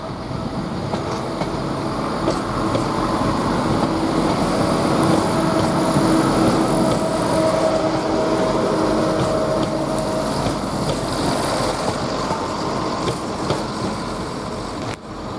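A Class 170 diesel train rumbles at Grantham station, a steady broad engine drone that holds at an even level throughout with no clear breaks.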